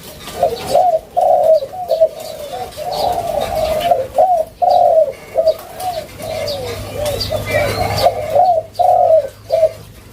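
A dove coos repeatedly up close, loud rolling calls in a steady rhythm, with faint chirps from other birds in the background.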